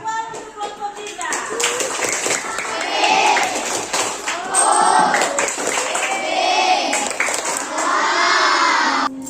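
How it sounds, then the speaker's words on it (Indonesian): Fifth-grade classroom children clapping and cheering for their group after a magnet lesson, loud bursts of clapping mixed with excited shouting voices, sustained and close throughout. "tepuk tangan untuk kelompok kita"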